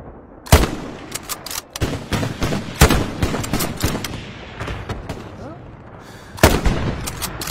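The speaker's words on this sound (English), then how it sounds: "I'm shooting the tank." Gunfire at a tank in a mobile war game, sharp loud shots in irregular bursts and rapid volleys with heavier blasts at the start and end, close and dominant.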